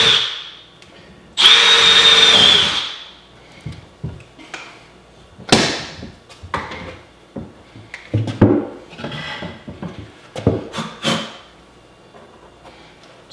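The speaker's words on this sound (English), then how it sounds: "I'll drill through all the way" A power drill bores holes through a barn door, starting with a loud, steady whine of a couple of seconds followed by shorter bursts, clunks and handling noises close by, with no talking.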